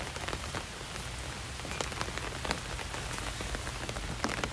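Rain falls steadily outdoors, a dense close hiss of drops hitting surfaces with scattered louder individual splats, continuous throughout with no voices.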